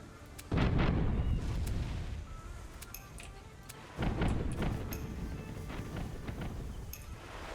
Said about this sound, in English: Now that's hitting him with my good cannons,